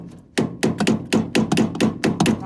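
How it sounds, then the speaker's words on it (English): A hammer strikes a van steering column being driven back onto the gearbox, about nine sharp, close metallic blows in an uneven, rapid rhythm. "We're hammering the steering column back over the gearbox."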